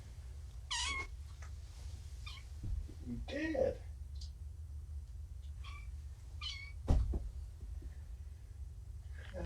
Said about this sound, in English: Hello, kittens. Did you guys have a nice long nap?